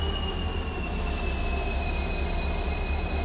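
A locomotive pulls out of a station on the Shirdi–Yesvantpur weekly express route, a steady close rumble of rolling stock with high wheel squeal running throughout.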